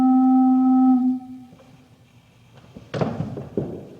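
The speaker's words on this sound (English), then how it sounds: "This is a stopped flute." A single stopped flute pipe from a pipe organ sounds a steady, pure low tone for about a second and fades, followed by quiet room noise and a couple of soft thumps.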